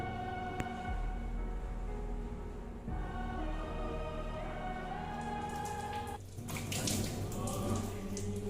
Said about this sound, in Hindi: ये पानी की मोटर किसने चालू कर दी यार?